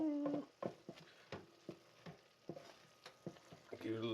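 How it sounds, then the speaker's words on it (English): Food stirred in a pan with a wooden spoon, a close, steady series of scraping strokes roughly every half second over a low sizzle, with no talking. "Give it a little stir."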